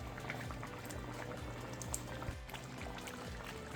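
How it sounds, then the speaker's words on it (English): Thick coconut red curry sauce with Dungeness crab bubbling hard as it reduces, a dense continuous burble of popping bubbles at close range, no voices. "continue to let this boil down and thicken up"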